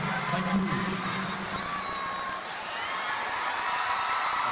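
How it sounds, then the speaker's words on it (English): A volleyball match crowd in a packed arena fills the space with a broad, steady roar that stays loud and fairly even throughout, without a clear build. "we're hearing the crowd getting louder and louder"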